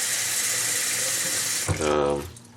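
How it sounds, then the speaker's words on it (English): Running tap water pours into a lobster's container with a steady broadband hiss, then the tone deepens as the vessel fills and the flow cuts off near the end. "I'm going to give him a bit more water so that he thinks he's in the deep end all the time."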